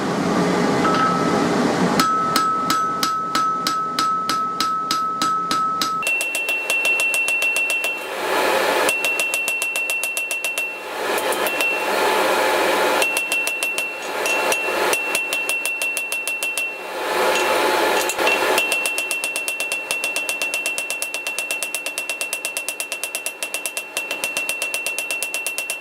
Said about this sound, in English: I'd use the ball end of the hammer to spread these wings out a little bit and give it a bit more shape.